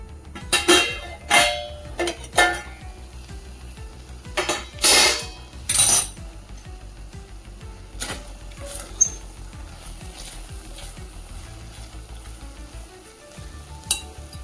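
A spoon stirs and scrapes tomato chutney in a pan in bursts of clattering strokes over a soft, low sizzle, then quieter stirring with occasional clinks.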